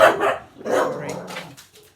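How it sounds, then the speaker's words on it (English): A dog mouthing and barking close by, a few short muffled barks and gruff mouthy vocalizations in quick succession. "Dog's mouthing again."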